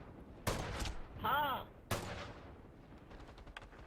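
Video game gunfire from the shooter MAG: a few sharp shots with an electronic whine between them, then quieter distant shooting and scattered pops trailing off.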